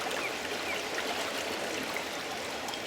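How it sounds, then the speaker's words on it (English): Stream water rushes over a piece of bedrock in a steady, close, full-bodied wash with no breaks, heard alone. "The water's rushing through here and rushing through there, so it's going over the top of this piece of bedrock"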